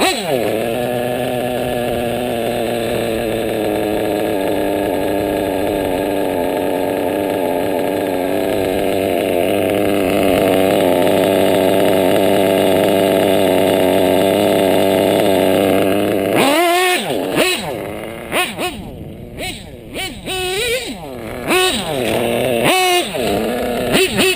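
A modified small gas engine, freshly carburetor-tuned, runs loud and steady at a high droning rev for about sixteen seconds, then drops and blips through a series of sharp revs and throttle snaps.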